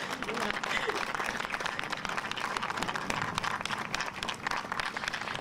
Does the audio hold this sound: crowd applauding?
yes